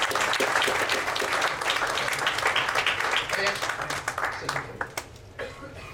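A room of attendees at a user group anniversary gathering claps for a founder, steady dense applause that tapers off over the last seconds into scattered claps and murmuring voices.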